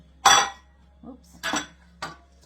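A spoon clinks against a pan while cornbread stuffing is stirred together with ground turkey and Italian sausage, in three or four sharp metallic knocks separated by short quiet gaps.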